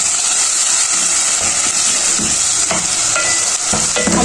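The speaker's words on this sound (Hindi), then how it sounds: "टमाटरों को भूनना है अच्छी तरह।" Chopped tomato frying with onion, garlic and ginger for a chana dal masala, a dense, loud hiss of sizzling with intermittent stirring scrapes and clinks up close, no talking.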